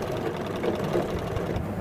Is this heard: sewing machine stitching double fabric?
yes